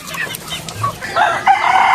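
Chickens clucking nearby, followed by a loud rooster crow rising over them, busy farmyard fowl close up in Tangalan, Aklan.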